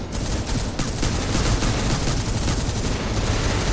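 Heavy, continuous gunfire in a zero-gravity tactical shooter video game: a dense, unbroken fusillade of overlapping rapid shots, loud and close, with no pause across the whole stretch.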